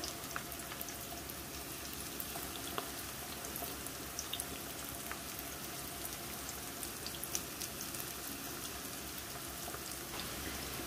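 Cutlets fry in oil in a pan with a faint, continuous crackle and light spitting pops, quiet and steady with no talking.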